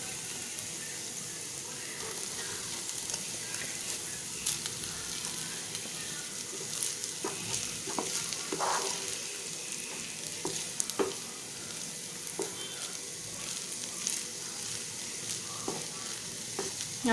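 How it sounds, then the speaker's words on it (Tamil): Boiled rice with spring onion frying in oil in a pan for veg fried rice, a steady close sizzle throughout with occasional scraping and stirring clicks and no talk. "ரைஸ் வந்து இதில் வந்து ஒரு 3 மினிட்ஸாவது வந்து ஃப்ரை ஆகணும் இந்த ஆயிலில்."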